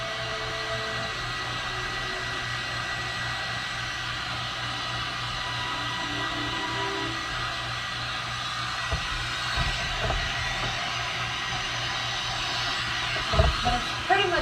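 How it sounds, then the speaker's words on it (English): A Dyson Supersonic hair dryer blows steadily on hair, an even, close airy whoosh that runs unbroken throughout, with a few bumps and handling noises near the end. "I've been blow drying my hair for about 9 minutes"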